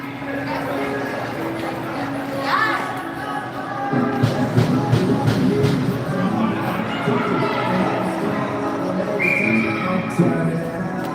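A referee's whistle calls icing during a U15 junior girls' ice hockey game, with short blasts in the rink over steady arena noise and crowd sounds, while a commentator talks throughout.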